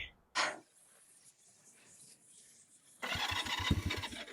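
Honda CB175 motorcycle engine starting: a brief crank near the start, a lull, then the engine catches and runs as a loud, close, rough-pulsing idle for the last second or so.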